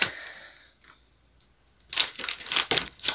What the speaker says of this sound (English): I didn't open the bubble wrap